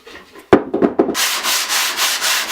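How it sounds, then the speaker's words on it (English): Sandpaper is rubbed by hand across a worn wooden cutting board, a few short scrapes giving way to steady, rhythmic back-and-forth strokes, close and loud with no talking. "how much you need to sand with each grit is determined how worn the surface is"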